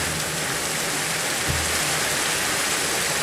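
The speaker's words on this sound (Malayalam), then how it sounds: "എവിടെയാണെങ്കിൽ മുടിഞ്ഞ് മഴ" Steady rain falls in Minecraft, a dense, even hiss of drops that keeps up without a break, with one soft low thump partway through.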